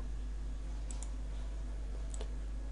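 Two quick pairs of faint, crisp computer mouse double-clicks over a steady low electrical hum.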